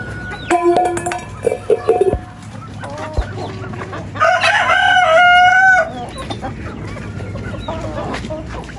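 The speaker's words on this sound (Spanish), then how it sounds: "No es gallinita, yo antes pensaba que era gallinita, pero no, es un gallito." A young fine-breed rooster in a home garden gives several sharp clucks and calls up close, then lets out a loud, strained crow, with further soft clucking afterward.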